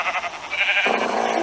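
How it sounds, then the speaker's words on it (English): A single sheep bleat in the Minecraft video game, a short wavering nasal cry heard alone and clearly, as a wolf attacks the flock. "Oh, my pet wolf is killing sheep."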